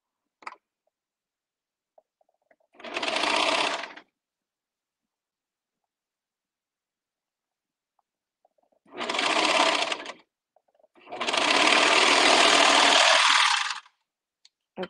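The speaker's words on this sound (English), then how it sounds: "I am sewing really slow." Serger sewing machine stitching flare pant legs, running in three distinct loud bursts of steady whirring, the last burst the longest, separated by near silence.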